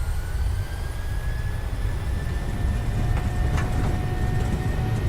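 A PMDG 737-800 in Microsoft Flight Simulator runs at takeoff thrust, a loud, steady jet engine roar with a constant rumble and thin whining tones holding level throughout.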